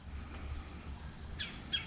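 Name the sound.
birds calling near full backyard bird feeders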